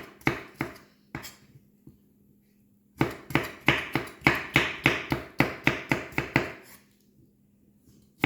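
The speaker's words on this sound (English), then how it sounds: "Right, I've got these random bits of peppers, so I'm going to use these up. And again, I'm going to do it into julienne." A knife chops random bits of pepper into thin julienne strips on a board: a few sharp taps, a pause, then a rapid even run of about a dozen crisp knocks, alone and close.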